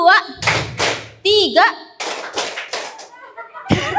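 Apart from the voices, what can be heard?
group clapping in a counting clap game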